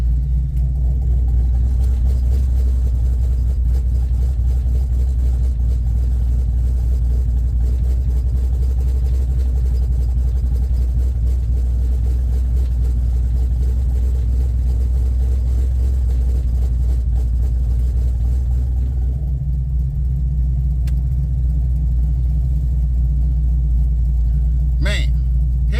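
A 1978 Chevrolet Malibu Classic with a 383 stroker and open exhaust cutouts idles heavily, heard from inside the car as a steady deep rumble that stays loud and constant throughout, with a brief click near the end.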